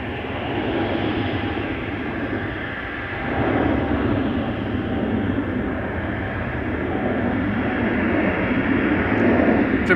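Boeing 777 freighter jet at Schiphol's Polderbaan runway, a loud, steady broadband engine roar that holds for the whole stretch, swelling slightly around the middle and again near the end, with no talk over it.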